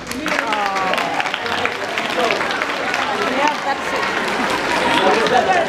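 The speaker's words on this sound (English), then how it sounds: "give them the biggest round of applause that you can" Middle school students at an assembly applaud their advisors in a steady, loud wash of clapping mixed with crowd noise and cheering voices.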